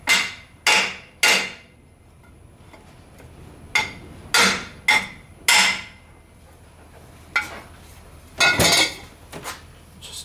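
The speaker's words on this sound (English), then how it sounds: "Just tap the new seal on." Sharp metallic hammer taps in irregular clusters, loud and close, tapping a new transmission output shaft seal into place on a Ford E350, with quiet gaps between the strikes.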